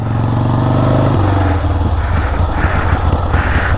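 A 1977 Harley-Davidson Ironhead Sportster engine rumbles loudly while riding, a low throbbing drone that shifts pitch partway through as the throttle changes, with wind-like roar and no speech.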